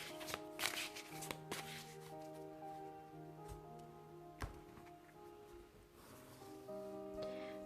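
Oracle cards being shuffled by hand close up, soft papery slaps and riffles arriving in irregular bursts, quiet and alone against a faint background hum.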